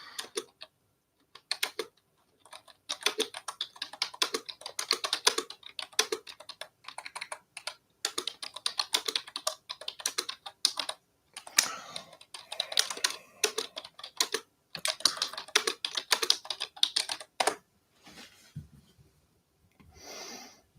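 Fast computer keyboard typing in irregular bursts of clicking keystrokes with brief pauses between runs, close and moderately loud, with no voices.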